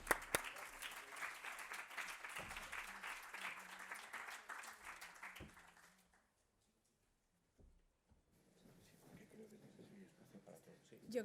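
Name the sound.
audience applause for the moderator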